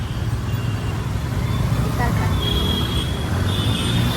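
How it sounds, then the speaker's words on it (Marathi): Busy city road traffic heard from a bike or scooter on the way to refuel, a steady close rumble of vehicle engines and road noise, with a few horn-like tones rising above it. "त्यात एवढा ट्रॅफिक झालाय ना बेकार"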